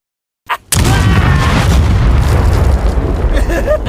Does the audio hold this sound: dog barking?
no